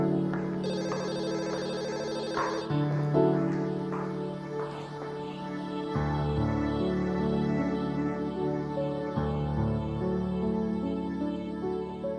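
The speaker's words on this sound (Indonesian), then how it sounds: "Angkat telepon, Pak." A telephone ringtone plays as a repeating electronic melody, steady and moderately loud across several cycles, with no talking over it.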